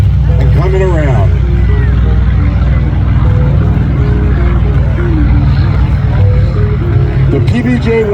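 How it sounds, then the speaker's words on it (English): Vintage warplanes at an airshow, a PBJ-1 bomber taking off while a Grumman Hellcat taxis, loud steady propeller engine drone filling the scene with crowd chatter and a voice over the din. "The PBJ is off the ground, the Hellcat is taxiing"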